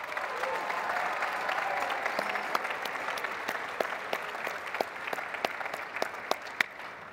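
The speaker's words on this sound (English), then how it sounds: "Round of applause for yourselves." An audience at the FIRST LEGO League World Festival closing ceremony applauds the teams, a sustained, distant crowd clapping that thins toward the end, leaving scattered individual claps.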